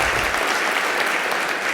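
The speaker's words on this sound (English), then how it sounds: "Yes, we can applaud for that." Dense audience applause at an awards evening for diversity champions, loud and continuous, with the crowd clapping close and steady throughout.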